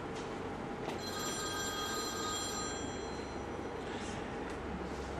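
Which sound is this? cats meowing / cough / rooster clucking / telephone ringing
telephone ringing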